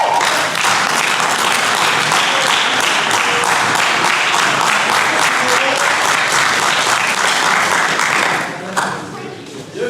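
Loud, dense audience applause at a school spring athletics and co-curricular awards ceremony, sustained clapping from a large crowd for about nine seconds before fading out.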